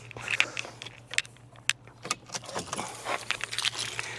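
Car keys jangle and clink in irregular bursts as the ignition of a MINI is switched off, close and fairly quiet over a low steady hum, with no speech.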